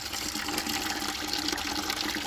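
Water draining out of a freshly hand-dug well hole, a steady, continuous gushing and splashing that holds at an even level throughout without pause.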